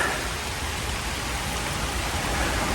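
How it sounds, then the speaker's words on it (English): Steady rain falls outdoors in the Smoky Mountains, a dense, even hiss of drops pattering on surfaces that holds at the same level throughout, with no voices. "I need to start making my way out of this rain"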